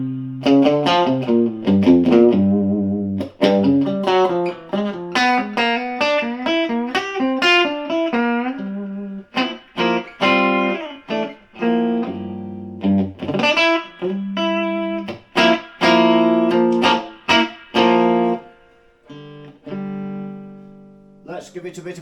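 An electric guitar plays through a Marshall 12 watt reverb practice amp, its notes and chords coming through distorted and harsh with a big reverb tail, played in phrases separated by brief pauses.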